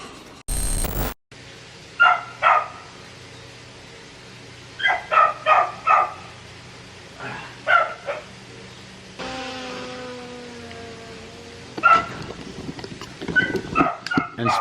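Dogs bark outdoors at a moderate distance, giving short clusters of two to four yips and barks spread across the scene. A faint steady background hum runs underneath, with one brief loud thump near the start.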